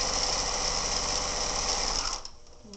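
A sewing machine runs steadily, stitching a quarter-inch quilt seam, with a loud, continuous close-up whir that stops abruptly near the end, leaving a quiet pause.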